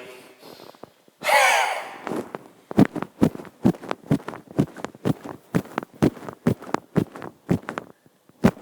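Forceful, rhythmic nasal exhalations from a yoga breathing practice (agnisara), starting with one long loud breath and then short sharp snorting pulses roughly every half second, close and alone without talk.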